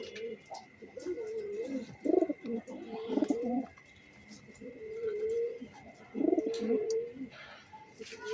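Budapest racing pigeons coo in soft, repeated throaty phrases close by, with bursts around two to three seconds and again near six seconds, over faint background noise.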